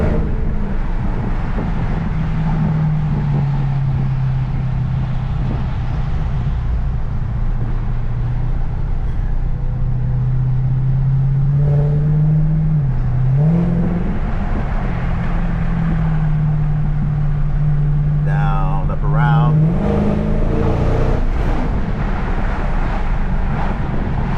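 A 2020 Dodge Charger Daytona Hellcat in track mode on a winding mountain road, its engine holding a steady low drone with a few rising revs and shifts, heavy wind noise buffeting throughout.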